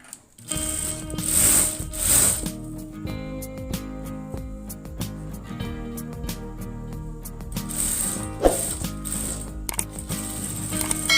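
A sewing machine stitches a zipper onto a baby frock, its mechanism whirring and clicking steadily and close up, with a few brief bursts of faster running.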